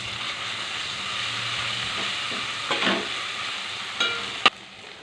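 Onions, cumin, curry leaves, ginger and turmeric fry in oil for chicken curry, a steady hiss with a few scraping stirs and a sharp utensil clack near the end.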